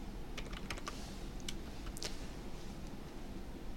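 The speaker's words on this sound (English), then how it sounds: "I'm going to type that same note, please comment on today's lesson" Fingers type a short note on a computer keyboard, a quiet run of light clicking keystrokes in uneven bursts against a soft background hiss.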